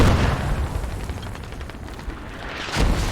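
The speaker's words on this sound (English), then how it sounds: "You actually have Russian mortars mortaring the position here" Russian mortar rounds land on a position in the military shooter game Squad, played with a tank combat mod. Heavy booming explosions rumble continuously, with a fresh blast near the end, and no voices are heard.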